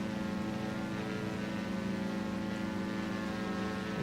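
A Diamond DA62's twin engines drone steadily at around 90% power during a climb in the X-Plane 11 flight simulator: an even, continuous hum with a tonal buzz that stays unchanged throughout, with no voices.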